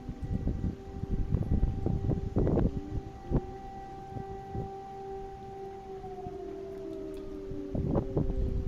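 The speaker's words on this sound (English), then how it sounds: "those sirens been going on for a little bit now" A steady, faint siren tone wails in the distance, slowly dipping in pitch, under gusts of wind noise and scattered clicks.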